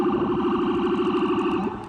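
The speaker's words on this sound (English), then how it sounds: "And I mean, that's a siren too." A Wakefield Fire Department fire truck siren wails in a fast, continuous up-and-down yelp, loud and steady, easing off slightly at the end.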